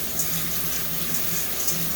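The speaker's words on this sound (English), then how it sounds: "I'm going to take these over here now, rinse them with cool water." Cool tap water runs steadily from a faucet, rinsing dried pinto beans in a strainer: a close, continuous hiss and splash with slight flutters, no talking.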